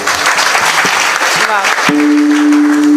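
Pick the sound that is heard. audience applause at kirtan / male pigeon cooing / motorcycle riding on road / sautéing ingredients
audience applause at kirtan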